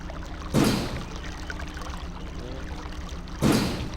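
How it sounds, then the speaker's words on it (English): Water courses through a pipe in the Channelwood Age of the game realMYST Masterpiece Edition, with two loud gushing surges about three seconds apart over a continuous low flowing rush. "whenever you're near this pipe and there's water flowing through it, you can actually hear the water flow"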